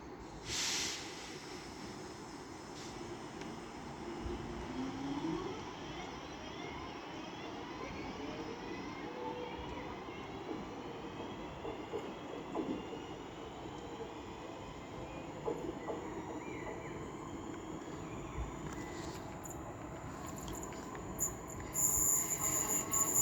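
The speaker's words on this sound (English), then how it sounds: "getting ready to depart is 323234 with the 1500 Northern service to Stoke-on-Trent" A Northern Class 323 electric train pulling away from a station, a faint, distant, steady rumble with gently rising whine and occasional wheel squeals, insects chirping softly in the background.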